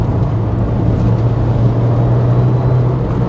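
A Subaru Impreza STI Spec C with an HKS exhaust holds a steady, loud low engine drone, a constant tone with no changes in pitch across a few seconds.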